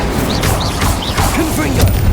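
Confringo and Incendio fire spells go off in the video game Hogwarts Legacy, a string of loud, sharp blasts and whooshes in rapid succession over a constant noisy game soundscape.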